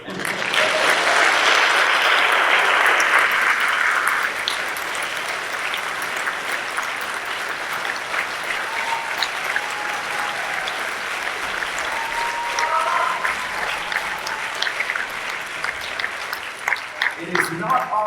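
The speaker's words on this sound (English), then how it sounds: "Just give yourselves a big applause for everything." Audience applause fills an awards ceremony hall, loud and dense at first, then settling into a steady, lighter round of clapping that continues throughout with a few scattered claps near the end.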